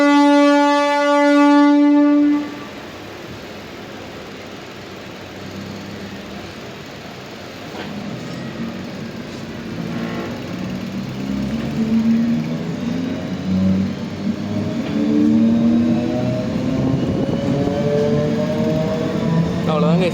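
An Indian Railways MEMU passenger train departs the Trichy–Villupuram line station, a horn sounding for about two seconds before a low motor drone builds and whines upward steadily as it accelerates, with a voice talking over it.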